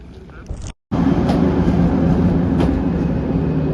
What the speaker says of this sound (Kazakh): Құлпар тальго пойызы